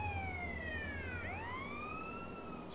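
A police siren wails during a chase in GTA San Andreas, its rising and falling tones sweeping continuously, fairly faint, with a low engine drone beneath and no talking.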